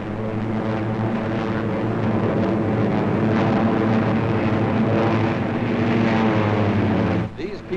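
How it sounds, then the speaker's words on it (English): Second World War P-39 fighter planes roar loudly and continuously as they take off from a base near Port Moresby, the rumble holding strong before cutting off sharply near the end. "From nearby bases, our fighters go up to clear the WOW Port Moresby area."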